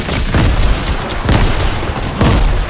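Grenades explode in Fortnite, three heavy booms spaced about a second apart, each with a low rumbling tail, loud and close.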